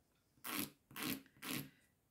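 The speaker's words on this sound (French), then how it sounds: "Je prends un petit bout de papier de verre." Three even strokes of sandpaper rubbing over a small piece of polymer clay, each a short rasping scrape of about a quarter second, close and fairly quiet with brief pauses between.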